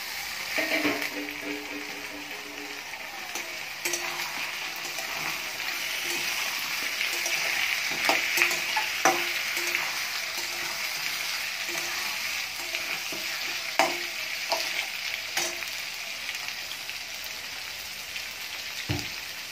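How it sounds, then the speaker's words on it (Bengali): Potatoes and tomatoes hiss and crackle with onions in a hot pan, heard up close as a continuous sizzle, broken by repeated spatula scrapes and knocks as the mix is stirred; no voices. "এবার আমি আলু আর টমেটোটা দিয়ে ভেজে নেব"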